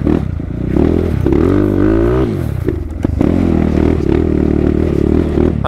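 A four-stroke motorcycle engine runs loud and close, rising through a long throttle blip, dropping back, then settling into a steady, throbbing idle.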